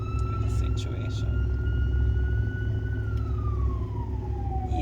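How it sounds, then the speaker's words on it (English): A passing ambulance siren holds a steady wail, then drops in pitch as it moves away, over constant low road rumble. "That would be the ambulance passing."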